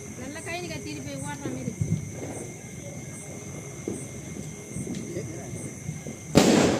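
Diwali firecrackers go off outdoors amid festive chatter, with scattered pops through the clip and one sharp, loud burst near the end, people talking throughout.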